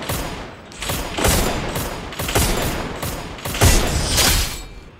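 Rapid bursts of gunfire from a Free Fire mobile battle, several close, loud volleys with brief gaps between them, landing headshots in quick succession.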